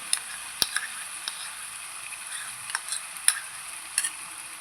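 Onion and tomato fry steadily in oil in a pan, with a soft hiss broken by occasional sharp pops and light stirring clicks.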